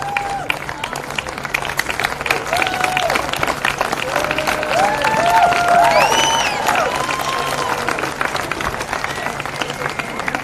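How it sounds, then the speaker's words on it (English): An audience claps and cheers for the runners-up team, Northern Tigers, at a sports presentation. The applause is loud and sustained and mixes with crowd chatter, whoops and a few high shouts. "another round of applause for our runners-up today, Northern Tigers"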